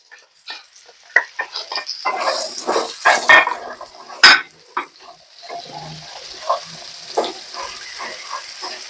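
Thinly cut bottle gourd going into a hot pan for a gourd and shrimp dish, a burst of loud sizzling and clattering stirs that settles into intermittent frying crackle.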